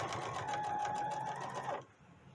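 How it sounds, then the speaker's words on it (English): Sewing machine stitching a garment seam runs in a close, steady whirring burst for under two seconds, then stops. "and now I'm going to go ahead and I'm going to sew this."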